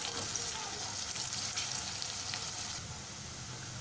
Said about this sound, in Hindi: प्याज हल्की सी गोल्डन हो जाए फिर मैं आपको दिखाती हूँ।